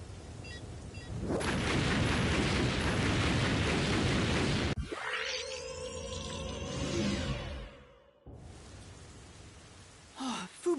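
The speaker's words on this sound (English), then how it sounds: "Bomb will detonate in 5..." Bomb detonation in Master Detective RainCode, heard as a loud, sustained roaring blast lasting several seconds, followed by swirling, sweeping rumbles and debris that fade out, then quieter sounds.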